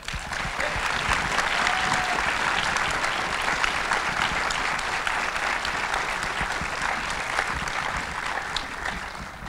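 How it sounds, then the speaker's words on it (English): Sustained applause from an audience at a university Q&A event honoring a film director, dense steady clapping filling the room at moderate loudness throughout. "So once again, a round of applause."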